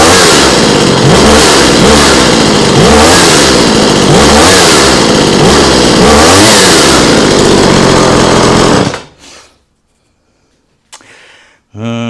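Small two-stroke engine of a trimmer or chainsaw revving hard and close in repeated surges for several seconds, then cutting out to near silence before briefly firing again.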